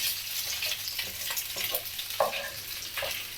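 Sausage meat frying in a little oil in a pan, a steady close hiss with soft crackles and a few spatula scrapes.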